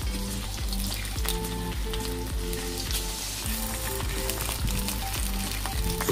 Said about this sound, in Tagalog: Mainit na mantika, isutay natin muna ang hipon.